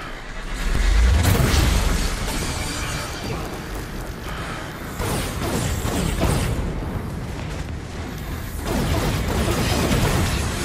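Explosion in the video game inFAMOUS: Second Son, a loud deep boom early on followed by sustained crackling, bursting and mechanical game effects that swell again toward the end.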